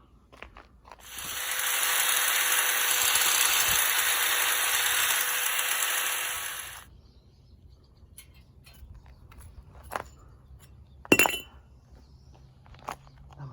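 A power cutting tool hacks off a metal piece for a welded TV stand, whining steadily and loudly for about six seconds before stopping, followed by scattered metallic clinks and taps.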